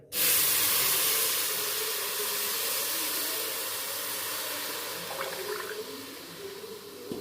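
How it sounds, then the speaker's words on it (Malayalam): Jaggery syrup poured into a heated uruli pan sets off an abrupt, loud steamy hiss that holds steady and slowly eases, with a few faint clinks near the end. "ശർക്കരപ്പാനി ഉരുളിയിലേക്ക് ഒഴിച്ചു കൊടുക്കാം"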